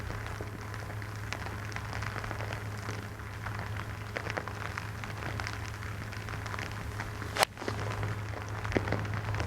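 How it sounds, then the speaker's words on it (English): Rain pelts down on a links golf course at Royal Liverpool during the Open, a steady soft hiss over a low hum, broken by scattered taps and one sharp knock. "You can hear the rain pelting down."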